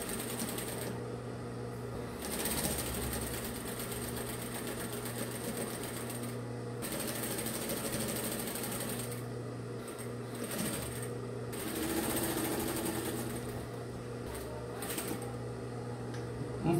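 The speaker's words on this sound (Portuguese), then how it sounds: "Na máquina Singer, costura reta." A Singer sewing machine runs a straight stitch in a steady, continuous mechanical hum with a fast rhythmic tick, close and moderately loud, with brief pauses and a voice speaking at times.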